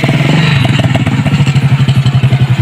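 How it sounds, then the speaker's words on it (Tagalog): A mountain motorcycle, an off-road trail bike, rumbles steadily nearby with a pulsing engine note and some clatter throughout, no talking. "Yan ang aming gamit na pang ano yan, pang bundok na motor."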